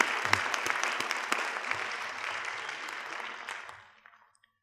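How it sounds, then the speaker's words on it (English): Audience applause at a school board association spring conference in a high school, a dense crowd clapping with a few sharp individual claps, quiet and even before fading out to silence near the end. "Let's give a big round of applause for all our 10-year award winners."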